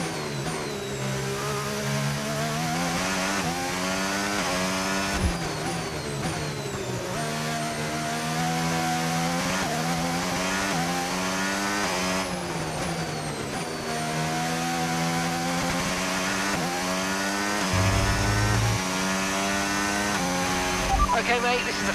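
Formula 1 race cars in F1 25 at Hungary, a continuous high engine whine rising and falling through gear changes and revs, loud and sustained with a few low thumps, talk running over it.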